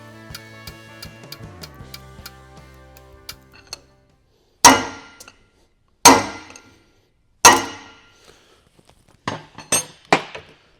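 After some light ticking and a ringing tone, three sharp, loud metallic hammer blows land on a punch seating a part onto a shaft of an IH 5488 tractor, followed by a few lighter taps.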